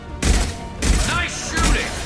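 Bursts of rapid gunfire from the Mass Effect 2 video game come in three loud, close volleys separated by brief gaps, with heavy booming impacts under the shots.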